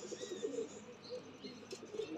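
Soft, throaty coos from a female pigeon repeat in a low rolling rhythm, close by, with faint chirps and light rustling around them.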